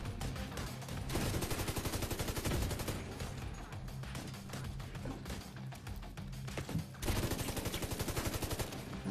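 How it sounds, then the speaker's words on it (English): Gunfire in The Division 2: rapid automatic bursts rattle almost without pause, dense and steady and fairly loud, with brief shifts in intensity and no voices over it. "I'm gonna shoot you and finish you off."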